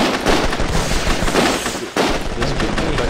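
Rapid gunfire from a Mount & Blade: Warband multiplayer battle, dense overlapping rifle shots and crackling volleys, loud and continuous across the whole moment.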